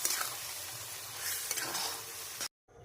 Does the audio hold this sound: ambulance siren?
no